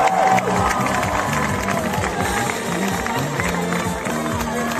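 A large crowd cheers and roars loudly with applause mixed in as the Olympic flame arrives on the Promenade des Anglais in Nice, a dense, continuous wall of voices throughout.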